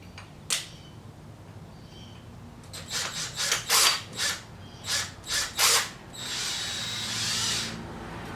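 A power drill drives a screw into a motorcycle quarter fairing on a Low Rider S in a series of short, close whirring bursts, ending in one longer run as the screw seats.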